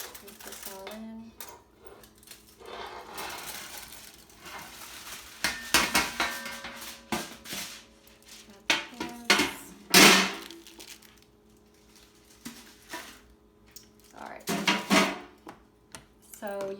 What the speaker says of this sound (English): I'm going to use a Dutch oven here. Put this all in.